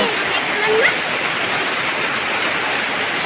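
Heavy rain pouring down during flooding, a dense, steady wash of noise close by and unbroken, with a faint voice briefly rising above it.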